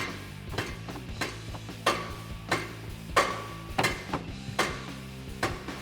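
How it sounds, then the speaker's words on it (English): A rubber mallet lightly taps the edge of an axle-back exhaust pipe on a 2018-2020 Mustang GT, about ten close, soft, dull knocks in an uneven rhythm, with no talk. "You can just grab a rubber mallet and lightly tap the edge."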